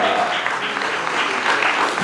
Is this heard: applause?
yes